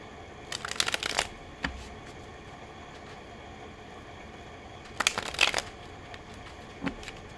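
A personal tarot deck is riffled and shuffled in two quick bursts of crisp card flutter, with a few lighter taps between them, close and fairly quiet in a silent room.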